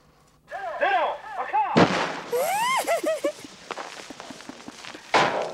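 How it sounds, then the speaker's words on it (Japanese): A heavy explosive boom from a blast triggering an artificial avalanche on a snowy slope bursts out, followed by rolling rumble and a second blast near the end, with voices calling out between them. "人工的に雪崩を起こしてるんですよ"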